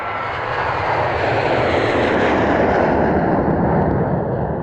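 An airplane passes overhead with a loud, steady engine roar that holds at full strength for the whole stretch, alone with no talk.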